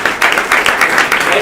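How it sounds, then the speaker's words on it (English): Audience applause for the organizers at a sustainable blockchain hackathon final pitch session, a dense burst of many hands clapping steadily across the whole moment with no voices over it. "So another round of applause for the organizers of this great event."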